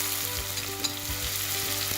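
Ginger and then garlic sizzle in hot oil for an Indian-style saag chicken, giving a steady close-up frying hiss with a few soft pops. No one speaks.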